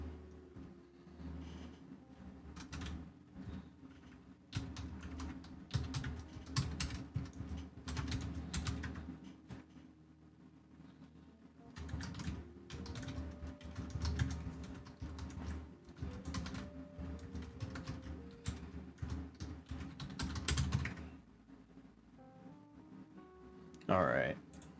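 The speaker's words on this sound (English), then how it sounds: "One sec, I'm typing something in my Discord." Quiet bursts of clicking keystrokes on a computer keyboard come in uneven runs, close and soft, with a voice talking intermittently and occasional pauses between flurries.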